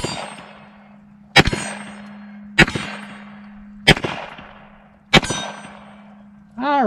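Five sharp 9mm pistol shots fired at a steady pace with Lyman 147gr bullets, each a loud close crack with a ringing decay, followed by a brief metallic whine at the end.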